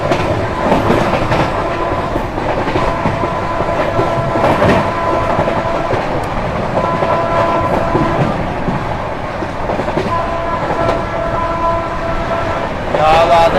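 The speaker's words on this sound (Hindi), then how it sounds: "गाड़ी अपनी फ्लैट 130 की रफ्तार में भाग रही है अपनी वेस्ट बंगाल संपर्क क्रांति" West Bengal Sampark Kranti express racing at about 130 km/h, a loud steady roar of wheels and carriages with rhythmic clickety-clack throughout, recorded from on board with faint voices now and then.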